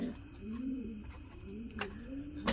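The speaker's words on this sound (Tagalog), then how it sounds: "Ayan yung ibon." A homing pigeon back at its loft during evening training coos softly and steadily close by, with a few faint clicks and a brief sharper sound at the end.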